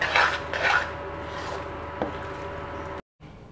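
Lauki burfi mixture with dry fruits being stirred in a pan, giving a few close scraping and clinking knocks of the spoon against the metal, then a steady soft rustle that cuts off near the end.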